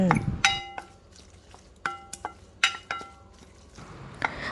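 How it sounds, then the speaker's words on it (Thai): Century egg spicy salad ingredients with shallot and Chinese celery being tossed and stirred in a bowl, giving a few sharp utensil clinks and scrapes with soft mixing rustle between them, close by and moderately quiet. "จากนั้นก็คลุกเคล้าค่ะ ให้ส่วนผสมทุกอย่างเข้ากัน"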